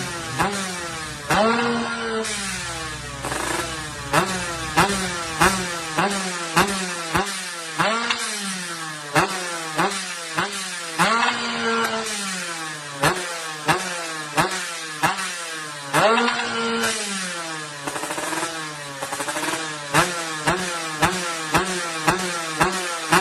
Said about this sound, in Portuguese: quando ele acelera meio acelerador, o giro permanece estável